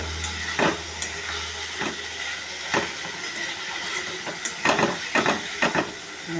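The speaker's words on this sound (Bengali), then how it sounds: "একটু কষে নিই।" Spices and fried potato stir-fried in a hot pan for a Bengali pabda fish curry, with a steady sizzle under sharp, repeated scraping strokes of a spatula at uneven intervals.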